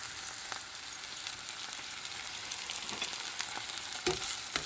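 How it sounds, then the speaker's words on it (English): Homemade green seasoning is stirred into a hot frying pan, producing a constant close sizzle with a few scraping stirs and soft knocks, and no talk. "Give it a stir."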